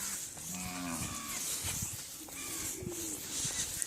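Cattle low in a long, drawn-out moo and then another at a crowded India-Bangladesh border area, over a steady wash of noise with faint pigeon coos nearby.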